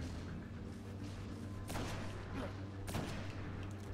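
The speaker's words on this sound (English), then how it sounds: "Those two wasted shots right there." Two gunshots in the Destiny video game, sharp bursts about a second apart over a steady low background hum, moderately loud.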